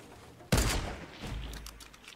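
Gunfire from a sniper rifle in the Fortnite video game, one sharp loud crack followed by a rumbling tail and scattered softer game effects, with no talk over it.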